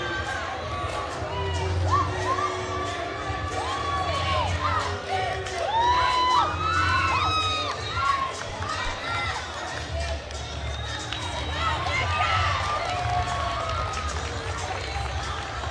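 A high school gym crowd at a women's varsity basketball game cheers and shouts steadily during a South Brunswick cheerleader routine, with whoops and a low continuous rumble throughout.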